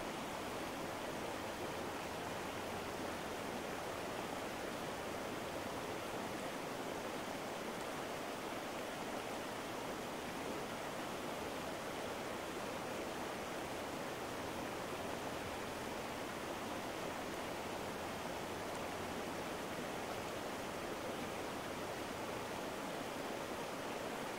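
Oak Creek, a spring-fed perennial stream in Arizona's high desert canyon, rushes in a steady, unbroken broadband wash of flowing water, even and continuous from start to finish with no voices.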